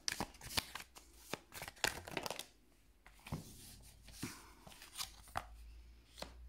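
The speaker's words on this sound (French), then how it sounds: "on commence par un 5 de coupe" Tarot cards being shuffled by hand, close and quiet, with a run of sharp riffling snaps and soft slides, no talking.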